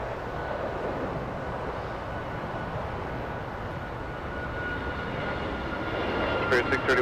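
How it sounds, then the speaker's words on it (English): An Airbus A321 airliner flies in to land at Los Angeles International Airport, a steady broad engine roar that swells slightly toward the end, heard from a distance under a faint hint of voice. "An Airbus A321 coming in"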